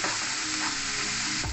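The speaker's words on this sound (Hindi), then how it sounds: "अब मैं इसमें ऐड कर रही हूँ एक चम्मच अदरक और लहसुन का पेस्ट। अब इनको हम अच्छे से भूनेंगे।" Ginger garlic paste frying with browned onions in a pan, a loud, dense, continuous sizzle heard up close with no talking.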